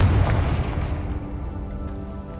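A Confringo fire spell from Hogwarts Legacy on PC bursts in a single loud, close explosion, its deep boom and crackle fading away over a couple of seconds.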